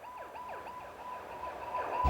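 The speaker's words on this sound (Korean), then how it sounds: "마침 공항에 도착해 보니 119 구급차가 나와가지고" A 119 ambulance siren wails in a rapid repeating up-and-down sweep, loud and close, growing slightly louder as the vehicle approaches, with no talk over it.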